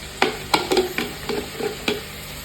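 A spoon stirs a pea and potato curry frying in a pan, giving several quick scraping taps over a soft sizzle, close up with no voices.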